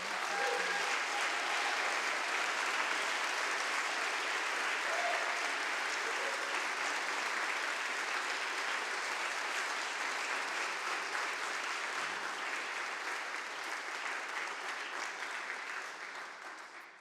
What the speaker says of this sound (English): please give a round of applause to our amazing speakers